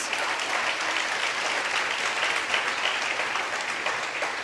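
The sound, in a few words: applause in church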